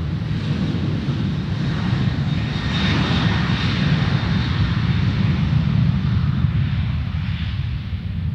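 A Qantas Airways airliner, registration VH-VYL, departing: a loud, steady jet engine roar with broad rumbling low end and hiss, sustained throughout without voices.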